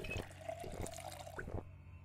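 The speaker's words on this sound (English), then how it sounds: "And then I'm going to drink some water." Water being drunk in the survival game Project Zomboid: a short watery gulping and sloshing effect lasting under two seconds, fairly close and alone over the game's background hum.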